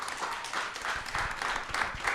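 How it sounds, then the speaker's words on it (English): An audience at a women's history panel discussion in Norfolk, Virginia claps, a moderate wash of applause with rhythmic hand claps running steadily throughout. "Let's give these ladies a round of applause."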